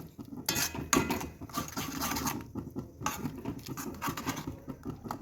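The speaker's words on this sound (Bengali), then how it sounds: "এবার এটাকে আমি ফুটতে দেবো" Tukai fruit chutney boiling in a pan gives an uneven patter of bubbling and spattering, with small pops and bursts coming close together and no talking.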